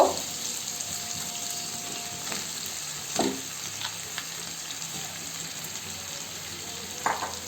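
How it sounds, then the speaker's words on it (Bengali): Hilsa fish head and pumpkin pieces fry in a pan with a steady, soft broadband sizzle throughout, broken by a few brief clinks of stirring utensils. "ভাজা ভাজা হয়ে গেছে এখন মাছের মাথা দিয়ে দেব"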